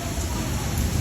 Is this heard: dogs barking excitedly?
no